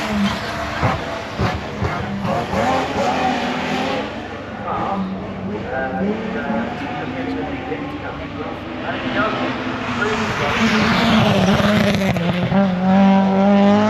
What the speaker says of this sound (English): Now this Austin Mini is very fast going up the hill.